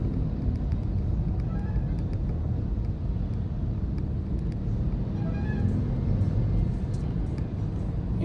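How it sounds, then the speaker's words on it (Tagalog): A truck drives along a highway in Tanauan, a steady loud low rumble of engine and tyres under wind buffeting the microphone, holding constant throughout with no voices. "Yan yung truck oh."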